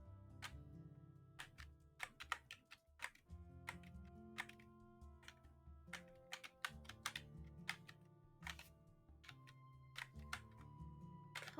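Rapid keystrokes on a computer keyboard during a competitive typing game, a dense, uneven clatter of taps running continuously under a steady musical backing track.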